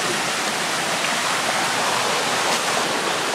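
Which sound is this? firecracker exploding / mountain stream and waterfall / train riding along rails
mountain stream and waterfall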